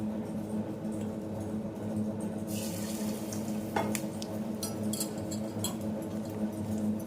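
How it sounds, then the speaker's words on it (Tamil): Flour-coated boiled eggs dropped into hot oil, giving a steady, even sizzle and crackle that continues throughout, with a few faint clinks of utensils. "எண்ணெய் சூடாகவும் நாம் முட்டையை போட்டு விடலாம்"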